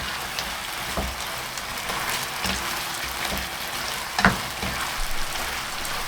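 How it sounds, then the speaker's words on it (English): Beef being stir-fried in sauce over high heat, heard as a steady close sizzle with soft scraping stirs and a sharper clack near the end. "Back to high heat and stir for another 20 seconds."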